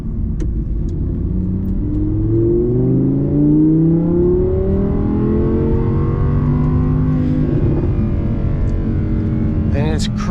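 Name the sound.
Audi R8 engine driving, not gearing down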